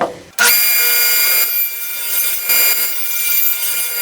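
A power saw bites into a 2x4 wood board with a sudden loud start, then a steady high whine and rasp as it cuts through to square up the ends.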